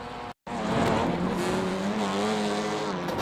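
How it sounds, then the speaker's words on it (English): Race car crash in the iRacing sim at Thruxton during a four-hour special event: a loud, steady engine roar with scraping tire squeal, cut by a brief dropout near the start, then continuing dense and close with no talk. "Let's jump straight in and watch the crash."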